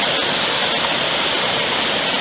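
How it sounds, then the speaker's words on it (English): The Gale River in the New Hampshire mountains rushes loudly and steadily, running high, a dense continuous roar of moving water close by with no voices over it. "The Gale River."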